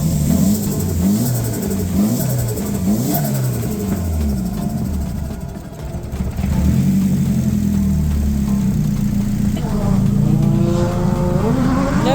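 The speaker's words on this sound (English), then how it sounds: "it doesn't seem to be able to hold its idle correctly right now" A Nissan 180SX engine struggles to hold an uneven idle, the note wavering up and down before it is revved repeatedly, loud and close, with no talking over it.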